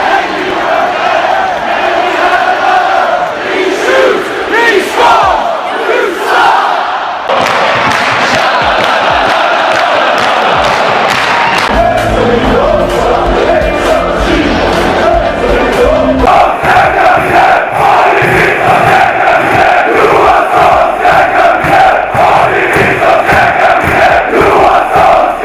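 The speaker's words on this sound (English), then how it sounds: "Swedish fans are more organized" Swedish hockey fans chant and roar together in an indoor arena, a loud, dense crowd sound that runs continuously with rhythmic organized singing and surges of massed voices.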